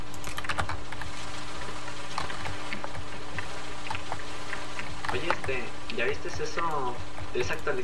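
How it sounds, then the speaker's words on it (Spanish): Computer keyboard clicks from a gamer's setup while playing Payday 2, rapid and continuous close keystrokes running under game noise and someone talking. "espero que no se esté oyendo mucho mi teclado"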